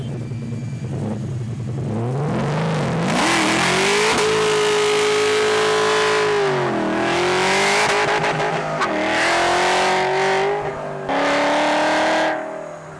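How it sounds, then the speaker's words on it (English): An LT4 V8 engine revs hard again and again, roaring up in pitch and dropping back between bursts, loud and close throughout. "the LT4 provides a smooth running engine that goes crazy when you drop the hammer"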